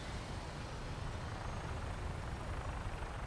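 An aircraft takes off in the video game Fallout 4, a quiet, steady engine rumble and broad rotor-like roar that drones on evenly in the background with no talking.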